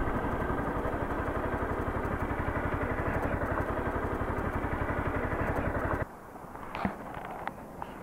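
A Honda CBR250R motorcycle engine idles at a standstill with a steady, rapid, close-up throb for about six seconds, then cuts out, leaving quiet ambience and a few small clicks.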